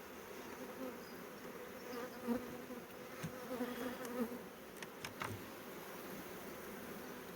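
Honey bees buzz in a dense, steady drone close by while being shaken from hive frames into a package, with a few brief clicks and knocks rising above the swarm.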